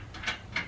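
A lock nut is tightened by hand onto a fitting in the knockout of a fluorescent light fixture being converted to LED, giving two quick, faint metallic ratcheting clicks, close up.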